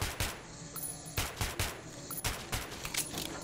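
Gunfire from a weapon in Metro 2033 Redux, several sharp bursts of shots spaced unevenly over a few seconds, fairly close, with mechanical clatter between them and no talking.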